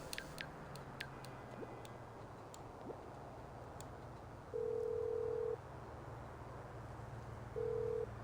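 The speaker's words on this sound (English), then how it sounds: "we gotta phone Michael" In a video game, a phone call is dialed and rings out as two long, even electronic ringing tones over a quiet background, after a few faint clicks and ticks.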